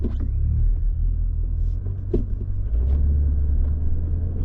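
A 4WD vehicle in low range grinds up a dirt track, its engine a deep steady rumble with occasional knocks and rattles from the body, close and continuous with no talking.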